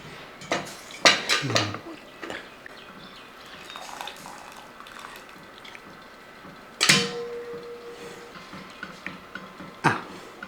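Metal utensils clank against a pot while scooping boiled banana stem, with soft wet scraping between the louder knocks and quiet watery sounds in the background.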